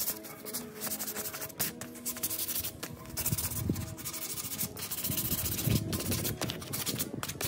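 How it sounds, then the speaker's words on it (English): Sandpaper rubs by hand along the edge of a Doug fir board in quiet, close, continuous back-and-forth strokes, with no voices. "And then we do have a little bit of sandpaper. Give that some love."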